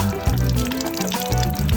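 Water runs from a spring spout in Itaparica, a close, splashing trickle with bubbling, pouring tones that rise and fall over a couple of seconds.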